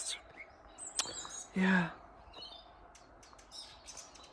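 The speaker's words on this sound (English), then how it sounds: "But the birds are singing" Birds chirp and call outside a cottage on a frosty winter morning in Ireland, with short scattered tweets near and far, and someone briefly says a word over them.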